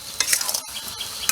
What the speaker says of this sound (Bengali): গুড় চিনি দিয়ে এই যে এবার নাড়া হচ্ছে আস্তে আস্তে জাল দিয়ে